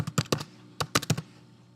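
A password tapped out on a computer keyboard, about eight quick, crisp key presses in two short bursts separated by a brief pause, close and fairly quiet, no talking.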